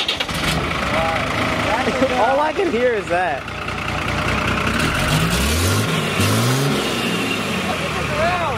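Diesel tow truck fitted with a JDM exhaust, its engine cranking over and settling into a deep, throaty idle with rising revs, heard up close while people talk over it.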